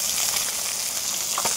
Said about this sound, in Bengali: এখানে ভোলা মাছ ভাজছি।